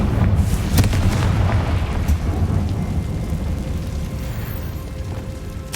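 A deep, booming fire-spell explosion in the game Hogwarts Legacy, a sharp crack followed by a sustained rumbling roar that slowly fades over several seconds, loud and up close.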